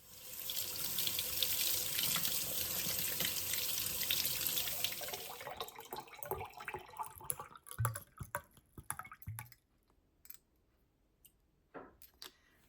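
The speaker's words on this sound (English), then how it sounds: "gonna wash my glass here and pour my second glass" A kitchen sink tap runs steadily while a drinking glass is washed under it, then the flow stops and gives way to drips, clinks and small handling sounds close by.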